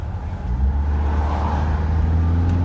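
A G-Body car drives past nearby, its engine a steady low rumble that swells after the first half second and holds loud through the rest.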